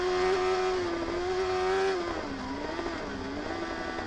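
Superbike racing motorcycles at the Cookstown 100 road race roar past in a loud, sustained engine wail that holds a high pitch and then drops and wavers as the bikes pass, with no talk over it.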